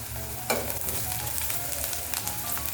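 Crushed ginger and garlic frying in a pan of oil for channa masala, a steady dense sizzle with a brief stirring scrape near the start, close and continuous.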